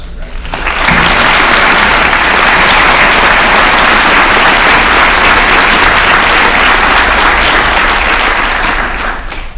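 Audience applause greeting keynote speaker Janet Leaper at a UWO Law 2016 graduation ceremony, rising quickly to a loud, sustained, dense clapping that holds steady for several seconds before easing slightly at the end.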